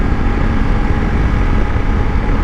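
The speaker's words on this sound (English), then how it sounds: "We're on board a 2019 BMW 850 GS." Steady, loud engine and wind rumble aboard a 2019 BMW 850 GS motorcycle on the move, a continuous low drone with no breaks and no talking.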